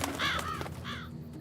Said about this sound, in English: it's just birds